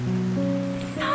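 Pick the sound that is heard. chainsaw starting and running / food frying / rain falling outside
rain falling outside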